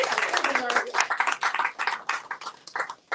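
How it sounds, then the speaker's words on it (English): An audience at a storytelling slam event claps in applause, a scattered round of hand clapping heard at moderate level with some speech mixed in. "give them a round of applause"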